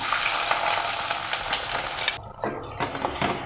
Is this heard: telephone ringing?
no